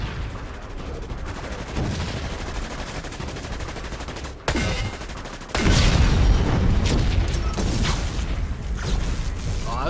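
SMG fire in the video game DUST 514 during a multiplayer ambush match, dense rapid bursts crackling loudly and continuously alongside explosions and clatter, with no talk.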